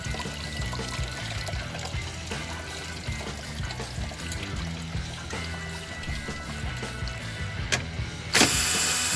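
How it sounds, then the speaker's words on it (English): Coolant draining from the radiator of a 2001-2006 T1N Sprinter van, a steady splashing trickle that runs continuously for several seconds amid garage background noise, ending in a brief louder burst. "It'll help the coolant drain out faster"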